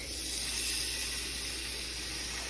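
Salmon fillet laid into a little oil in a non-stick pan over medium heat, giving a steady, even hiss of sizzling that holds at moderate loudness throughout.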